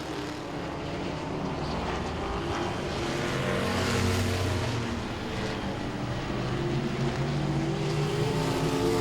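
Modified race cars roar steadily around Langley Speedway, a dense, continuous engine drone with layered overlapping motors passing at mid distance, loud throughout without a break.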